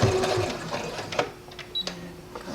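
A sewing machine top stitches around a patch pocket with a flap in blue thread, short bursts of close mechanical whirring with brief pauses between, over soft handling noise.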